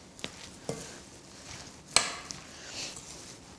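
Quinoa tabouli salad dressed with lemon juice and oil is tossed in a bowl, giving a few soft scattered clinks and rustles with one sharper knock partway through, quiet and close, with no voices.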